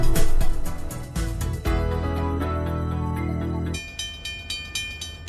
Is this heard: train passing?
yes